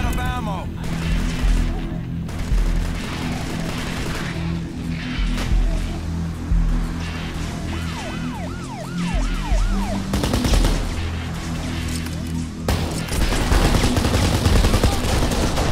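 Machine gun fire and other gunshots crackle through the Kane & Lynch action game, set among dense game music and effects with rising siren-like tones, while someone talks over much of it.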